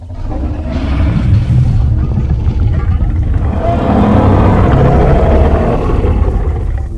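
A deep, rumbling creature threaten call from the game Path of Titans roars loud and close, swelling and rolling on for several seconds without pause.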